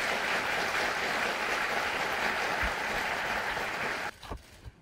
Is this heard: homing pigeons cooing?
no